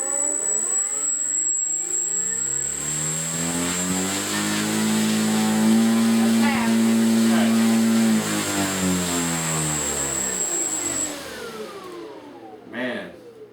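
Grumman HU-16 Albatross propeller engine runs up steadily to half throttle and eases back down, a loud sustained drone with rising then falling pitch, with wind rumble and a voice briefly audible.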